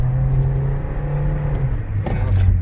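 A car driving at road speed during a brake pad bedding run after new pads and rotors were installed, its steady engine drone and tyre rumble filling the interior with a swell of acceleration near the end.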